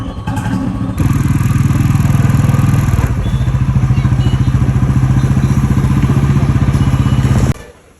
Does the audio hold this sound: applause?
no